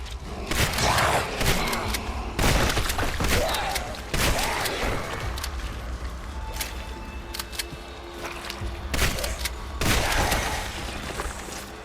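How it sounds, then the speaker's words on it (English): Loud gunshots and heavy booms from the horror game Bleak Haven burst out in irregular clusters over a rumbling, creaking background, some blasts sharp and close, others duller thuds. "I have to shoot."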